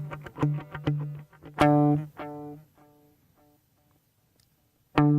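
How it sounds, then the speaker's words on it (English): Guitar run through a stereo tape echo effect pedal, with bright picked chords whose repeats trail off in quieter, fading echoes before a new strum enters near the end. "A stereo tape echo."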